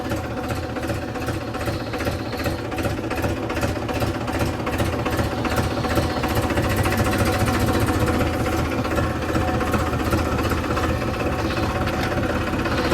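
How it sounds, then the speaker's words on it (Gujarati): A farm tractor engine runs steadily at close range, a loud continuous chugging with a fast regular pulse that never lets up. "તો આપણે ટ્રેક્ટર સ્ટાર્ટ કરી દીધું છે."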